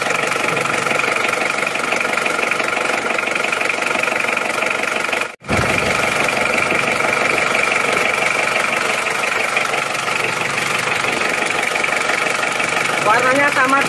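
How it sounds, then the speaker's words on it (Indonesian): A cold car engine idles steadily with a rough, even rumble close by, broken once by a brief dropout. "Mesin belum panas ya, masih baru itu saja."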